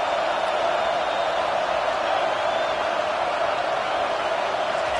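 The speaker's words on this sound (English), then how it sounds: "And here comes the noise. This crowd is trying to inspire this defense to make a big red zone stop." Football stadium crowd roars continuously as the home fans make noise for a defensive red zone stand, a dense, loud, sustained wash of voices with no break.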